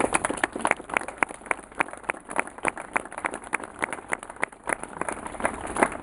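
A small audience at a gallery inauguration claps for the honoured guest, sparse distinct hand claps at an uneven rhythm, fairly close and moderately loud, with no speech over it.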